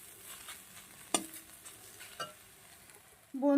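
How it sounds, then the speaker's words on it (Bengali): Radish frying in oil, a soft steady sizzle with a couple of sharp stirring clinks, quiet and close, before a louder noise at the very end. "মূলো ভাজাতে তেলটা টেনে নেয়"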